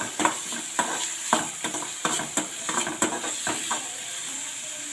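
Onions sautéing lightly in a pan for a Tamil brinjal stir-fry, a steady close sizzle broken by repeated sharp scrapes and clacks as a spoon stirs them, with no voices.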